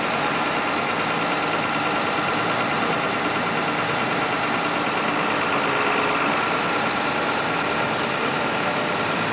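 A loud, steady engine drone with a broad rumbling noise, constant throughout, from a large John Deere 4960 tractor driving in a spring festival parade.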